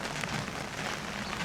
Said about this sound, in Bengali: এই দেখেন গাছে টিপটপ করে বৃষ্টি পড়তেছে।